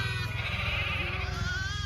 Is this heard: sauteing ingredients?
no